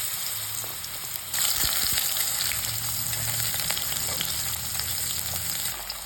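Turnip pieces dropped into hot oil with bay leaves and nigella seeds, a steady broad sizzle that swells loudly after the first second and holds, with a few utensil scrapes, no voices.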